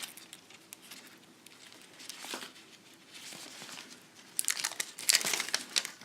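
Crinkly aluminum tape with a polyethylene backing rustles and crackles in the hands, quiet at first and then louder, with sharp crinkling bursts toward the end.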